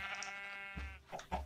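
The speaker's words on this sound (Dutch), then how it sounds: "Kom hier mijn koeienfamilie." A cow mooing in Minecraft: one long, drawn-out tonal moo, followed by a few short, dull bumps.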